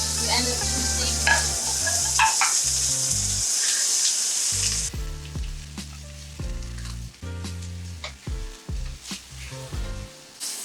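Beef hitting a hot pan for pad thai, first a loud continuous hiss for several seconds, then quieter crackling sizzle with repeated clanks and scrapes of a utensil, close up with no talking.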